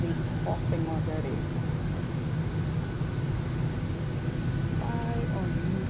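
Constant broadband roar of an airplane cabin, with faint murmuring voices in the background.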